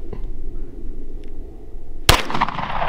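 A single sharp gunshot cracks out near and loud during a flashlight test with the strobe on, cutting through a quiet background with a brief rumbling tail.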